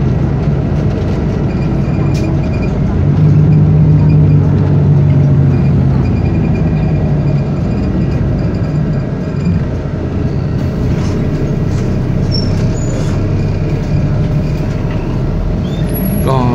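Suvarnabhumi Airport shuttle bus line C carrying passengers between terminal and bus station: a steady, loud engine drone and road rumble fill the whole ride, with no talking.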